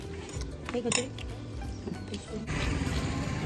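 Glasses and dishes clink and clatter in a few sharp knocks as drinks are passed around, with people talking nearby throughout.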